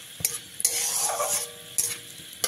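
Whole cumin seeds and a broken bay leaf sizzle in hot oil, with bursts of crackling frying broken by quick scraping stirs of a spoon in the pan; no voices.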